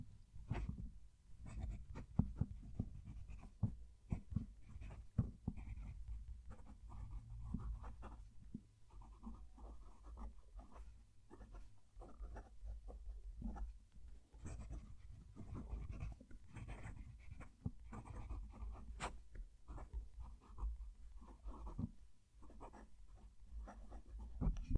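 A fine-nib fountain pen writing a sentence on paper, with a soft, close scratching that comes in short strokes and irregular bursts under a quiet background hum.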